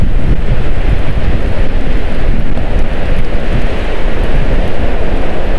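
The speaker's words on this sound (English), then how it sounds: "it's windy tonight" Strong wind blowing across a snowy campsite at night during a spring snowstorm, a loud, steady roaring rush that buffets the microphone without letup, with no one speaking.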